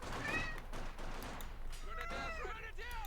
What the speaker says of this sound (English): Meow, yes, Basil.